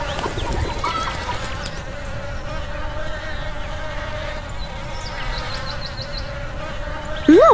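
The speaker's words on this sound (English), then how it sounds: "There are bees there. They sting." Bees hum steadily near flowers outdoors, a continuous buzz with occasional bird chirps and a brief higher call at the end.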